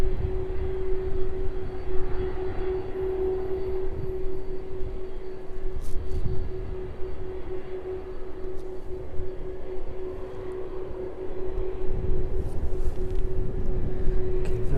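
A jet airliner taxis off runway 27 onto the taxiway at East Midlands Airport, a steady broad engine rumble with a constant whine held close and continuous, no voices.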